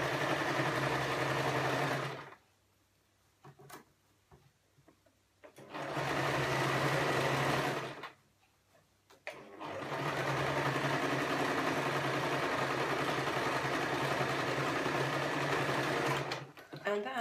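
A sewing machine stitches through the thick, layered edges of a fabric shopping bag, running in three loud, steady whirring bursts separated by quiet pauses, with a voice talking in between.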